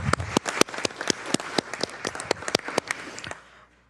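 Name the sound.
round of applause at city council meeting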